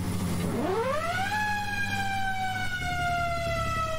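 A fire engine siren winds up steeply from low to a high sustained wail as Rescue Engine 1 of Montgomery County responds to a barn fire call, loud and close, with engine rumble beneath and no talk.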